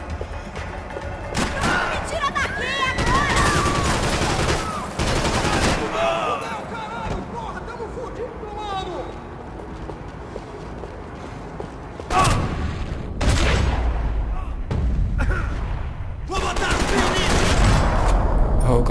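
Gunfire in the shooter video game Max Payne 3, with loud bursts of shots and booms in clusters, mixed with game sound effects and some voices.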